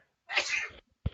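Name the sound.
sneeze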